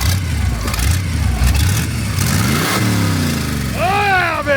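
Classic car engine revs at a Route 66 gathering in Ash Fork, Arizona: a loud low idle rumble swells into rising throttle blips, with a whine climbing near the end.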